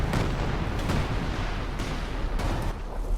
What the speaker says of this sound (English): Artillery cover coming in on the centre.